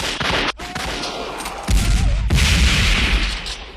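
Covering fire rips through a battle scene, with loud bursts of rapid gunfire and heavy booming blasts overlapping in a dense, continuous barrage that swells in the second half.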